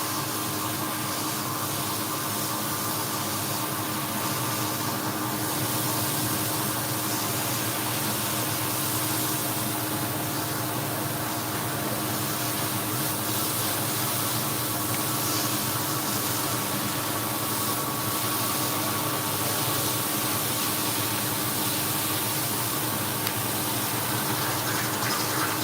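Water gushes steadily while rinsing a large urine-soaked bagged rug during rug cleaning, a loud continuous flowing wash with a motor hum underneath, and no talking.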